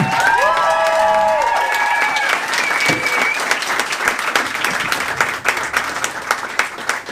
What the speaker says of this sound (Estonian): Teeme aplausi kõigile koomikutele